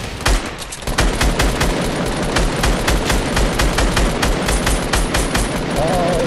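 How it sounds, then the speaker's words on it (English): Rapid automatic gunfire in a video game match, dense repeated bursts of sharp shots over a steady noisy backdrop, loud and continuous after a brief quieter start. "Oh shit, they're shooting at me now."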